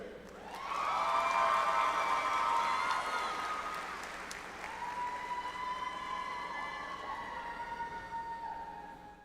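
Audience applause at a spring commencement ceremony honoring doctoral graduates, a dense wash of clapping that swells quickly, holds strong, then eases to a steadier lower level, with a sustained tonal sound riding over it.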